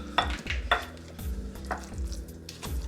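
Guacamole being stirred with a regular spoon in a bowl, giving a few soft, wet scraping and tapping strokes close by, with a light spoon clink against the bowl and no talking.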